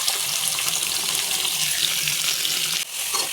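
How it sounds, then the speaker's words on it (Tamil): Chopped onions tossed into heated oil for a chicken gravy, giving a steady, loud, broadband sizzle that holds evenly for several seconds before briefly dipping, with no talking. "வெங்காயம் நல்லா வதக்கிக்கலாம். இது நல்லா வதங்கட்டும்."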